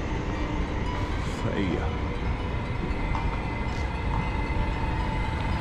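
A train pulling away from its last station on the run back toward Amsterdam Centraal on a Holland to Germany route, with steady rumbling rail noise throughout and a few brief squeals, under a short spoken remark.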